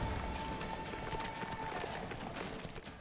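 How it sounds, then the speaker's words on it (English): A horse's hooves gallop in The Witcher 3 video game, a fast continuous clip-clop at close range. It sits against a dense bed of ambient game noise. "Tucson is tough to get around on horse, I gotta say."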